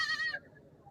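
A goat bleats once at a livestock market, a short, fairly loud cry that cuts off quickly into quiet background noise.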